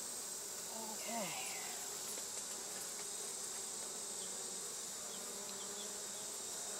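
Honeybees buzz steadily around an open beehive, a dense continuous drone filling the whole stretch, with a faint voice briefly audible underneath.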